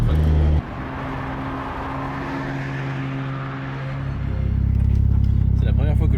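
A rotary-engine car being driven, heard from inside as a steady droning engine tone that climbs louder and higher as it revs near the end, with people talking over it.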